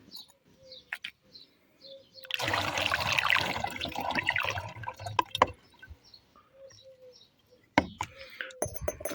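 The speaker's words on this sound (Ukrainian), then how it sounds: "заповнюється ємність водою доверху" Water pouring into a container to make a humate solution: a splashing, trickling gush lasting a few seconds, then tapering off into quieter dribbles, with birds chirping nearby outdoors.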